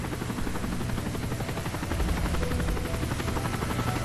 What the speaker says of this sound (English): Wait for a helicopter to pass.